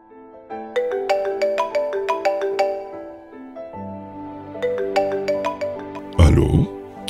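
A telephone plays a bright, melodic ringtone, a repeating phrase of tones that pauses and starts again, then ends with a short clattering burst as the handset is picked up.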